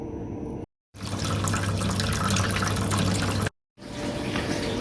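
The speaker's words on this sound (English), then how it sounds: "then we need to drain the remaining volume from the red tap at the bottom." Water drains steadily from the red tap at the bottom of a Maquet HCU 40 disinfection tank, a loud, continuous rushing gush that cuts out twice in brief pauses before resuming.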